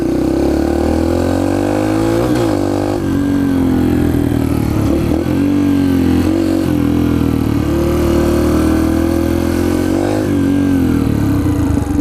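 A Yamaha TTR 125 dirt bike engine revving loudly and close up, a continuous throaty drone whose pitch rises and dips through repeated throttle blips over the whole stretch, with no talking.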